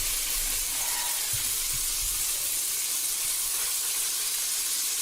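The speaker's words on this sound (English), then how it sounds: "It shouldn't be sizzling like that right now, Kay." Noodles sizzling in butter in a pan give a steady, loud, close hiss that runs unbroken throughout, with a few faint low bumps underneath.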